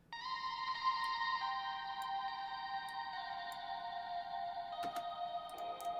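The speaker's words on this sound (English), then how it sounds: "that uses Valhalla Shimmer reverb again to kind of create that ambience" Guitar drenched in Valhalla Shimmer reverb at a full 100% wet mix, heard as a wash of sustained, layered high tones that shift gradually, with a few faint clicks near the end and no voices.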